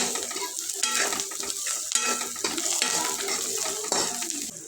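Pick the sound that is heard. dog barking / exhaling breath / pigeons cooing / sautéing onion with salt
sautéing onion with salt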